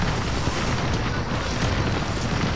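Bombs exploding in a video game as a dense, continuous roar of booms and blasts that blur into one loud, rumbling wall of noise, with no talking.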